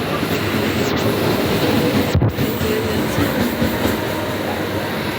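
Commuter train running at a steady loud rumble, heard from inside a carriage during a busy rush hour, with a sharp metallic click or squeak around the midpoint.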